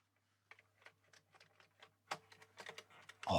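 Keys are pressed on a Commodore 64 keyboard during a diagnostic keyboard test. The keystrokes are quiet and irregular, coming in short bursts that grow louder and busier toward the end.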